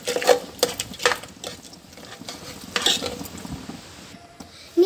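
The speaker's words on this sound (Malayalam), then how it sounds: "ഇനി അട ഇനി നന്നായി ഇളക്കി കൊടുക്കാം" Cooked ada is stirred into ghee and sugar for palada, giving irregular close scraping and tapping of a spoon against a pan with soft patter in between.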